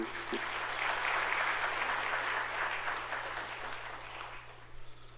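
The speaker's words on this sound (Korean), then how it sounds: "박수." A congregation claps during a church retirement service, a loud sustained wash of applause that swells early and slowly tapers off, with a low steady hum underneath.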